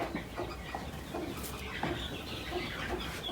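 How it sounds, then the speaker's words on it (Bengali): Brahma chickens cluck in a farm yard selling eggs, soft repeated clucks scattered over a constant background hum at moderate distance. "এই পাশে আবার ব্রাহ্মা মুরগি দিয়ে দিছি"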